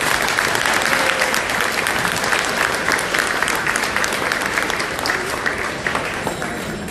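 A large crowd at a community Ramadan iftar applauds the mayor, loud sustained clapping that continues steadily throughout and eases slightly toward the end.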